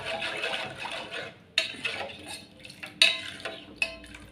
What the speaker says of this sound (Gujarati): છાશને થોડીક વાર આમ હલાવતા રહેવાનું, એટલે છાશ ફાટે નહીં, ધીમા તાપે.